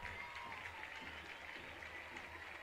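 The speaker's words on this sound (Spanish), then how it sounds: "Se rompen las manos aplaudiendo la salida del autor del hoy segundo gol" Steady, dense applause from the home crowd of Guaraní at a local league football final fills the stands as the captain and scorer of the second goal is substituted off, faint and continuous throughout.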